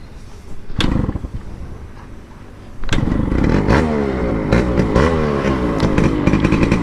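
A Yamaha RX100 two-stroke motorcycle engine crackles briefly at idle, then catches and revs hard and close, its raspy rising and falling note running steadily to the end.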